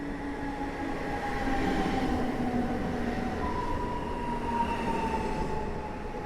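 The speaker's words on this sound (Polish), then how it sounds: "Intercity Fredro do Wrocławia" A PESA DART Intercity Fredro train to Wrocław rolls through Warszawa Zachodnia station in snow, a steady rumbling roar with long tonal whines drifting in pitch, no speech.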